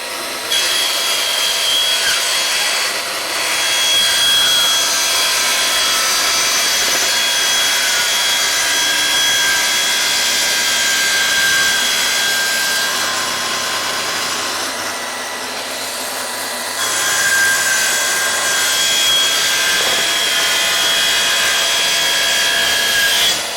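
A Festool saw fitted with a fine blade cuts through perspex sheet. The saw gives a loud, continuous high whine with a gritty hiss, dips briefly midway through the cut, then runs on steadily, with no talking.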